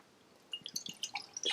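Water poured from a small Gongfu teapot: after a silent moment, a quiet run of light splashes and trickling drips builds over about a second.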